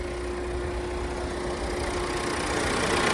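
A 2015 Ford EcoSport Trend diesel idles nearby with a steady, even engine hum and a constant tonal drone, running alone without talk.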